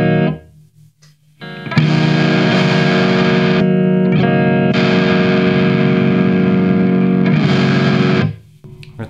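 Electric guitar played through a Boss DS-1 distortion pedal, sustained loud distorted chords ringing in two long blocks separated by a brief break, with no talking.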